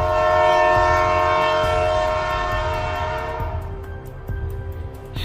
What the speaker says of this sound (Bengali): অনেক দূর থেকে একটা ট্রেনের হুইসেল শোনা যায়।